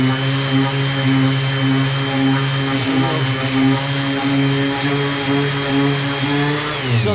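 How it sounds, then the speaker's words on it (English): A palm sander fitted with 60-grit sandpaper runs alongside a dust collector, making a loud, steady motor drone with a strong hum that barely changes throughout. "So again, just a palm sander, 60 grit. I'm gonna turn my dust collector on,"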